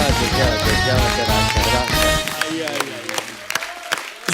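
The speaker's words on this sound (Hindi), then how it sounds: "जोरदार तालियां होनी चाहिए अशोक जी के" Studio audience applause on The Kapil Sharma Show, a dense burst of clapping and cheering mixed with music, fading over a few seconds as a voice speaks.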